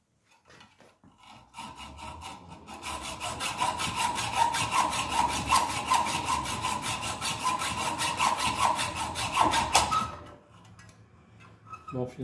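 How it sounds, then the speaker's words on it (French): Angle grinder cutting through the steel shaft of an EGR valve from a Volkswagen Touareg V10, a loud continuous harsh whine with rhythmic grinding texture lasting about seven seconds before stopping abruptly, with quieter handling noises before and after. "Donc ça, on peut le faire directement à la meuleuse."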